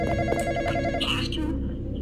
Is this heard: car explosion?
no